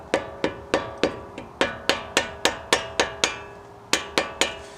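Mallet tapping a brake pad into the front Brembo caliper of a Honda Civic Type R FK8: about fifteen sharp, ringing metallic taps in a quick, fairly steady rhythm with one brief pause, close and loud, no talking.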